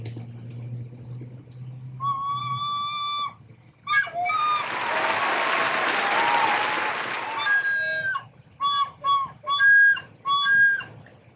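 A beginner's recorder plays wobbly tones with a doubled, split quality: a low hum, then a held note, a loud burst of noisy squeal, and several short separate notes near the end.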